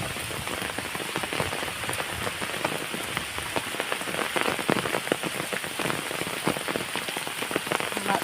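Steady rain falls on a surface, a dense continuous patter of drops with no voices.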